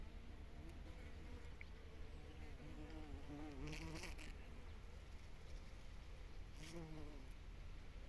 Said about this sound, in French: Les abeilles deviennent folles.